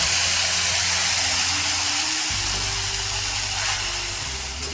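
Spice paste hits hot tempering oil in a pan while small fish are cooked in mustard-poppy seed paste, setting off a loud, steady sizzle and hiss that swells midway and carries on throughout with no talking.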